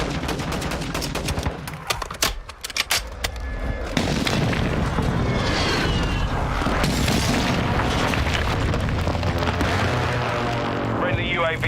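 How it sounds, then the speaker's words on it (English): A precision airstrike in the Warzone 2 video game sets off a string of heavy booming explosions and bursts of gunfire, loud and dense, while players talk over the battle. "Precision airstrike inbound."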